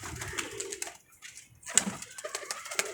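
A black China pigeon, also called Rampuri, coos in short, close bursts with brief pauses between calls and no talk.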